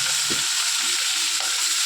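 Ash gourd pieces go into a hot pan with fried hilsa fish heads, giving a loud continuous sizzle and frying hiss with a few soft stirring knocks; no talking.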